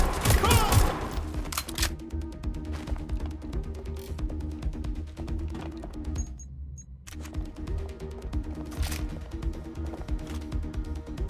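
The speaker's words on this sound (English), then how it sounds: "They're shooting at us!" Rapid bursts of gunfire in the video game Watch Dogs Legion, steady volleys with a brief lull midway, over a game music bed, with a loud crack and panicked shouting at the start.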